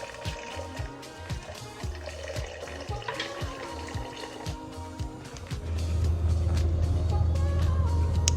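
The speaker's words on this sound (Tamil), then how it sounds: "1 கப்பு தண்ணி விடுறேன்." Water is poured from a cup into a mixer jar holding almonds for almond milk, a steady liquid stream that swells louder in the latter half amid a few light knocks and clinks.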